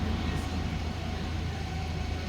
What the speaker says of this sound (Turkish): araba geçti